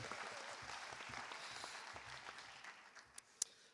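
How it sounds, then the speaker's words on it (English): Audience applause at a Gadsden State Community College nursing pinning ceremony, a steady dense wash of many hands clapping from a crowd that thins toward the end, with a couple of louder isolated claps. "Round of applause."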